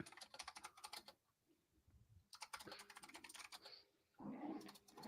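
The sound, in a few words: typing on a computer keyboard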